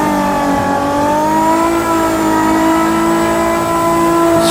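Car engine revs hard and holds steady while drifting figure-of-eight slides, with a loud, continuous, near roar whose pitch rises slowly and sustains throughout, alone with no talking.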